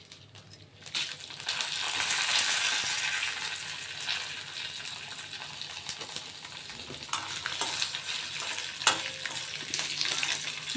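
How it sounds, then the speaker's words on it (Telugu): Dried red chillies fry in a hot oil tempering with mustard seeds and urad dal, giving a loud, continuous close sizzle with scattered crackles and occasional clinks from stirring. "ఇప్పుడు ఎండుమిర్చి వేద్దామండి."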